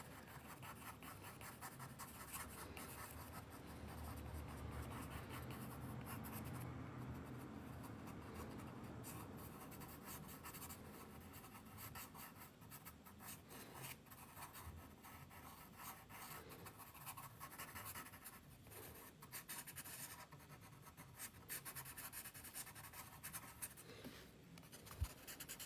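Pencil sketching bushes on paper for a detailed mountain scene, a faint, steady scratching and rubbing that runs continuously for the whole stretch without any talk.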